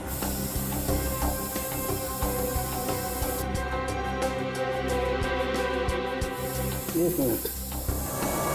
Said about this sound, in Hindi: अगर खून यहाँ पर कहीं है तो ये स्प्रे हमें बता देगा